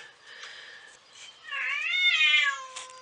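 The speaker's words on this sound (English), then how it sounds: "Did you hear that meow?" A mother cat with young kittens meows close by. First comes a softer call, then a louder, drawn-out, wavering meow with a short trailing cry at the end.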